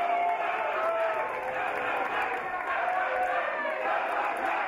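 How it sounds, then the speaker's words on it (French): A wrestling crowd chanting "tabarnak" during a match, a loud, dense wash of massed voices that holds steady without pause for the whole stretch. "La foule qui scande tabarnak, comme vous pouvez entendre très clairement"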